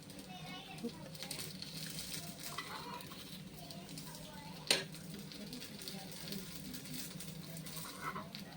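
Sabudana appe sizzling and frying in an appe pan, a steady soft sizzle with one sharp clink of a utensil midway, under quiet background talk.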